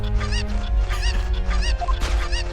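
Repeated honking squawks of a chicken sound effect from The Great Ace Attorney 2: Resolve video game, loud and continuous, stacked in quick overlapping calls with no talk.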